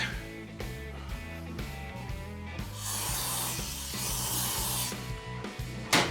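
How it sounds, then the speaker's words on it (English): A close hissing spray from an aerosol can of cleaner into an engine part, building into a strong sustained burst before tapering off, with faint rubbing and clatter around it. "Spray it out, wipe it good so that there's nothing in there."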